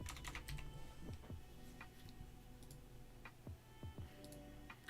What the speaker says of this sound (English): I'm kind of just typing these lazily